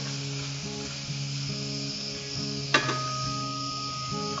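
Ingredients for a chana palak paneer dish fry in a pan with a steady, gentle sizzle that stays fairly quiet and even throughout, broken by a single sharp clink partway through.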